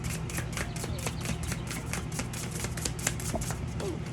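Oracle cards being shuffled by hand, a steady run of quick papery riffles and flutters repeating close up for several seconds with a faint room hum underneath.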